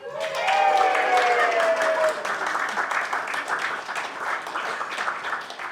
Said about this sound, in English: You want everyone to clap?